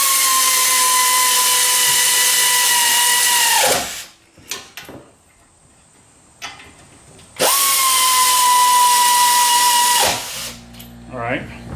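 Impact wrench or power drill driving a bolt in during a front brake replacement on a 2013 Chevrolet Malibu: two loud, steady whirring bursts of several seconds each, separated by quieter clatter and handling noise.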